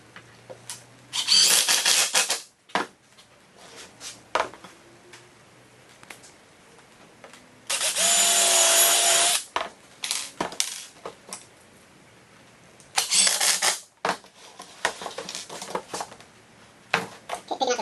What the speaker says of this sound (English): we're drilling into the middle to put our screw in